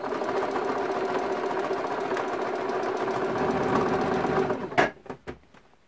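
A sewing machine stitches steadily around T-shirt logos on a quilt for nearly five seconds, a loud continuous mechanical hum with rapid rhythmic pulsing, then stops with a few short clicks and knocks.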